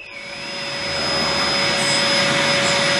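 A Hoover vacuum cleaner runs steadily and loudly, its motor whine rising over the first second and then holding a constant drone.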